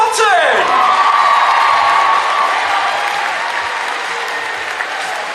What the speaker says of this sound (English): Biggest round of applause of the day